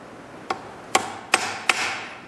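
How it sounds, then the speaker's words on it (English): A hammer tapping a pin to mark a steel router plate, four sharp metallic taps spaced about half a second apart, close and clear with no talking. "And then you take a hammer"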